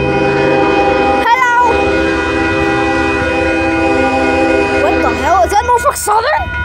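A Union Pacific freight train with a Norfolk Southern locomotive rolls past in a steady rumble with a sustained horn tone, while voices call out excitedly over it, including a child's.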